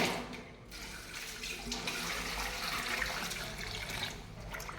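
Running tap water while cassava is washed, a steady splashing flow up close with slight shifts in intensity as the tubers are rinsed.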